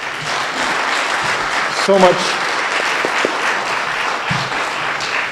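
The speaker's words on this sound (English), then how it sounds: "One more round of applause for this group." Audience applause after a high school strings concert continues as a steady wash of clapping while someone speaks briefly over it.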